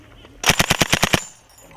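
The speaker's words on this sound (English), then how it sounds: "Okay, keep on firing." Sustained burst of automatic gunfire from British Army Gurkha troops, about eight rapid close, loud shots in quick rhythm, then stopping abruptly.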